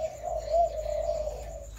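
A caged spotted dove (Streptopelia chinensis) gives a close, clear coo, one sustained low hooting call that holds steady for over a second before fading, with no talking.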